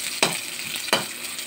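Garlic goes into a sizzling frying pan for shrimp adobo with takway and is stirred, giving two sharp scraping bursts about 0.7 seconds apart over a steady close hiss of hot oil.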